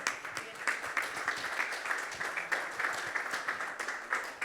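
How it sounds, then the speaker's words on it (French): An audience at an awards ceremony applauds steadily, a dense wash of clapping throughout, moderately loud. "on vous applaudit"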